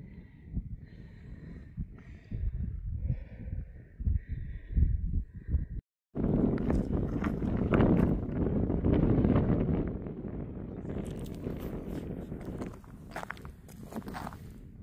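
Strong wind on a desert hiking trail in Capitol Reef National Park, Utah, buffets the microphone in loud rumbling gusts, briefly cut off, then roaring on with a sustained hiss.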